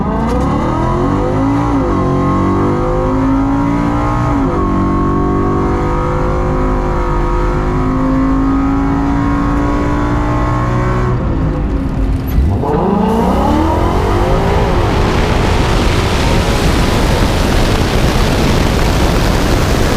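Project Chucky, a nitrous-fed drag car, on its final pass at the drag strip: a loud, close engine roar climbing through rising gear pulls, a brief dip at a shift, then a hard, harsh full-throttle blast to the end.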